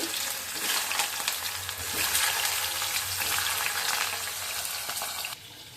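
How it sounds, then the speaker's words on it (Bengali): Potato pieces dropped into hot oil in a home kitchen, frying with a steady loud sizzle and bubbling crackle close by that runs throughout before easing near the end. "এদিকে আলুটা ছেড়ে দিচ্ছি"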